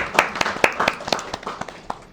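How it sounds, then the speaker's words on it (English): Applause from a small audience at a Día de los Muertos community gathering, a few minutes of scattered, distinct hand claps with uneven rhythm, fairly close and tapering off toward the end. "round of applause for y'all"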